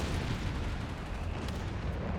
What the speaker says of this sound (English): We are seeing an artillery barrage here.